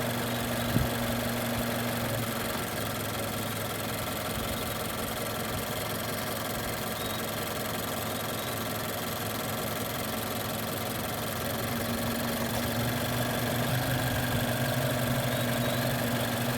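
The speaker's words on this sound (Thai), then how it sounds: "หลังซ่อมระบบแอร์เครื่องยนต์เดินเรียบ ไม่โหลดไม่ฉุดกำลังเครื่องยนต์ค่ะ" A Mazda3 engine with about 203,000 km idles steadily at close range after air-conditioning repair, a smooth low hum with a constant drone throughout and no voices.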